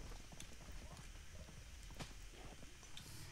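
Horse hooves clip-clop in the Conan video game, a steady, faint run of soft hoof beats under broadband background noise and game ambience.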